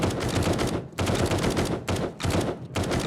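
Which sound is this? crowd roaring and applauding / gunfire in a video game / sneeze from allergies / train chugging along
gunfire in a video game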